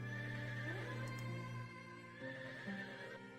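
Horses in the video game Settlement Survival give a few quiet neighs and whinnies with wavering pitch over a soft ambient game background, with light hoof clip-clop beneath, faint and close.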